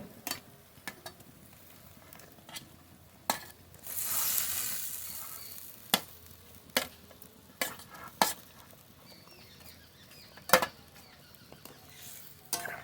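Bengali fish curry broth with fried snakehead fish simmering in a pan gives a soft sizzle with a brief hissing surge, broken up by frequent sharp clinks of a spoon against the pot.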